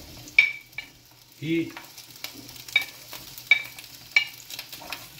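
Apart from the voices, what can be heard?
rocoto, ají and onion sautéing in pan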